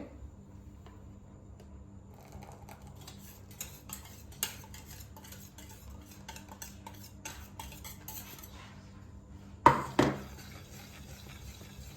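Brownie batter and flour are stirred in a bowl, a spoon scraping and tapping in a quiet irregular rhythm, close and soft, with one sharper clink against the bowl near the end.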